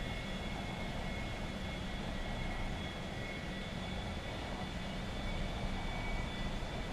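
A steady, broadband engine roar from an aircraft in flight holds at an even level throughout, with no breaks and no voices.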